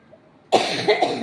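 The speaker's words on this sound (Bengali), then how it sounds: "আমার কাশি হয়েছে" A woman lets out a sudden loud cough after a moment of near silence, a harsh, close burst with a couple of rasping pulses trailing off.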